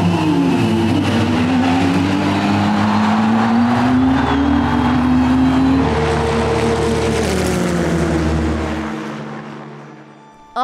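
Race cars roar past on the Bugatti circuit at Le Mans during a GP Explorer event, loud engine notes rising and sweeping by with whining gear shifts, fading toward the end.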